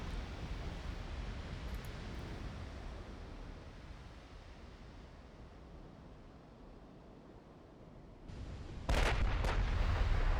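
Warship guns firing during a naval battle in a 1946 Ottoman campaign naval strategy game, a continuous rumbling roar of distant gunfire with a louder, closer burst of heavy booms near the end.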